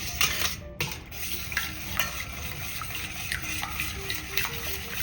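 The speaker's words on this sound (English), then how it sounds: "you want to make sure you mix everything well" Wet ingredients for a gluten-free, dairy-free, refined-sugar-free chocolate cake, including a coffee mix, being stirred in a bowl: steady, repeated scraping and sloshing strokes at close range, with no talking.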